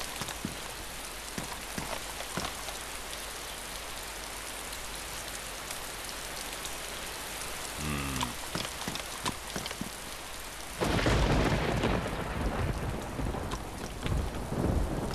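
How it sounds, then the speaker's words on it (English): Steady rain and rumbling thunder in the survival video game DayZ, a continuous wash of rainfall with a low thunder roll near the middle, then heavier, louder rain surging in for the last few seconds. "This rain definitely has an effect on the sound of the game"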